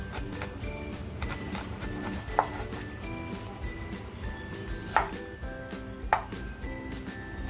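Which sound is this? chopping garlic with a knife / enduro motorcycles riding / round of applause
chopping garlic with a knife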